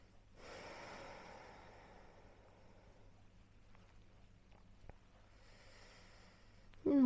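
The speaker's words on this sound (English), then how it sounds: "And taking some nice deep breaths." Deep breathing during a yin yoga session: one long, close inhale or exhale, then quieter breathing with a faint tap and a brief louder breath at the end.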